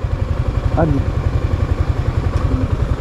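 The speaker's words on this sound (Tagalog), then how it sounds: "Motor cab." A motorcycle cab engine putters steadily with a rapid low chugging rhythm throughout, while people talk over it.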